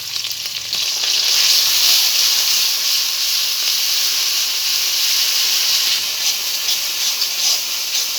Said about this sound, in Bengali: মশলাটা আমি হালকা একটু ভেজে নিয়েছি